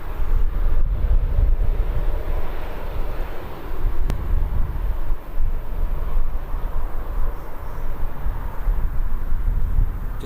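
A WestJet Boeing 787 Dreamliner airliner passes at Birmingham Airport, a steady loud low roar of jet engines with a broad rushing hiss, sustained throughout.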